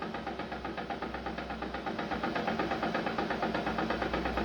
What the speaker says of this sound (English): And that, folks, is spinning under full closed loop control.